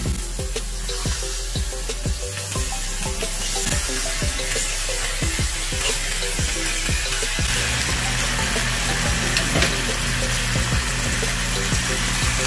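Chicken hits a pan of sautéed mixture for creamy corn chicken, sizzling steadily with repeated clinks and scrapes of stirring, close and loud, then settling into a smoother frying hiss.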